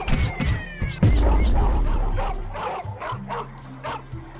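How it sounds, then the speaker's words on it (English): Police dogs in the Roblox video game bark loudly in a rapid series of sharp yaps and whimpering barks that continue through the clip without talking. "Police dogs are coming."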